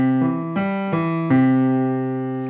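A piano plays a simple 1-3-5-1 scale as four separate sustained notes in steady succession, the last one held and slowly decaying, clear and close with no voice.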